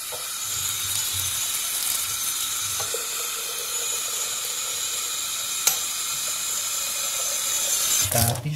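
Hot water poured steadily into a cup, a loud continuous splashing hiss close by that runs almost unbroken, with a single sharp clink midway.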